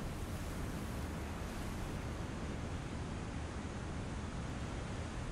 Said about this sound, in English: waves are loud today, aren't they